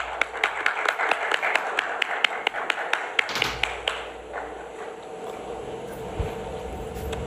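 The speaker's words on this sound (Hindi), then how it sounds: "जोरदार तालियों के साथ स्वागत कीजिए मिस्टर गौकरण पटेल" Stage applause welcoming a guest at an award event, a run of distinct, evenly spaced claps that ends in a louder burst and then fades into room noise.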